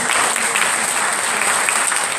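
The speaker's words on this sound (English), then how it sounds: "I would like to ask everyone to clap for this particular achievement." Audience at a medical mission gathering clapping for an achievement, a loud, continuous burst of many hands with a steady high hum underneath.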